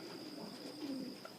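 Pigeons cooing inside a breeding loft, a soft continuous low murmur of coos with one slightly louder coo near the middle, steady and close.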